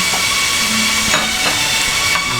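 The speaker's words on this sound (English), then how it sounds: "as you start cooking here, it starts emitting the great smell of the vegetables sauteing" Vegetables with a little garlic sauteing in a pot for winter cabbage potato soup, a loud, steady, close hiss of frying with occasional faint clinks of utensils, no voices.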